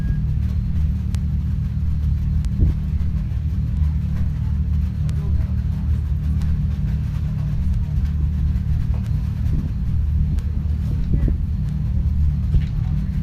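Steady low engine rumble from a race vehicle rounding a corner during High Desert 100 qualifying, a continuous, loud drone with no distinct peaks and some faint talk over it.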